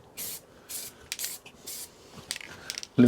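Short hissing bursts of black gloss spray paint are applied to the front grille of a 2024 Ford Transit Custom van, close by, with light rubbing and handling noises between the sprays.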